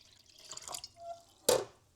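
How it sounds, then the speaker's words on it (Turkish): Water poured into a coffee machine reservoir in a quiet home kitchen, a soft trickle and faint drips ending in one short, sharp splash. "Şu suyu da kahve makinesinin içine boşaltacağım."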